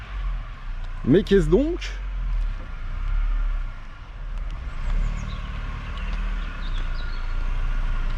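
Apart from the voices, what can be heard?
Audi 80 Compétition car arriving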